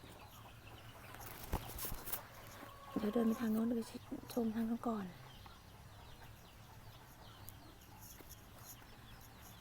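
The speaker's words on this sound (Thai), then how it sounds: "ทุกคนนู่นไก่ ไก่กุ๊กกุ๊กกุ๊ก" Chickens cluck in short, repeated bursts on a rural farm, fairly close and clustered in a few seconds, while someone talks and outdoor background noise continues throughout.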